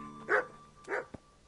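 Dog barking in the medieval video game Kingdom Come: three sharp single barks spaced about half a second apart, fairly near and clear over a quiet background hum.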